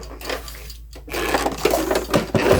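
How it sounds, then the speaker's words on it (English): A sewing machine runs in a fast, rattling stitch, pausing briefly before continuing with a steady mechanical whir and clatter. "put the sewing machine up here, and we're going to stitch a little bit"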